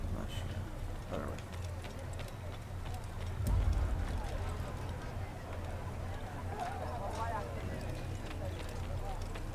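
Horse hooves clip-clop in an Assassin's Creed video game, a quiet, continuous trotting rhythm heard alongside game ambience, with a brief thump partway through and a person talking at times.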